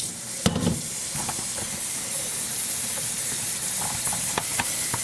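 Running water pours steadily over linen hand-dyed with mango and watermelon as it is rinsed, a continuous close hiss with a few small splashes and knocks.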